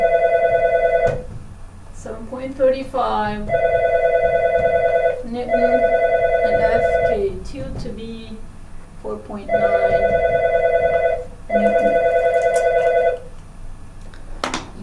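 A telephone rings in repeated electronic bursts, roughly every second or two, loud and near, while a man lectures about friction values during a physics lesson, his voice continuing between and under the rings.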